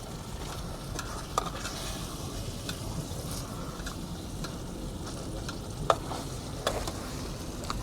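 Pieces of Kali river fish fry in a pan of spiced masala at a roadside camp, giving a steady soft sizzle throughout with a few small sharp crackles and pops, no talking.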